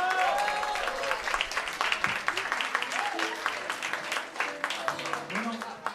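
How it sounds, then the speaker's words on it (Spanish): Audience applause for a singer at a Christian music festival in Coquimbo, dense steady clapping throughout with some crowd noise and a voice speaking over it, fairly loud and close. "Un fuerte aplauso para él."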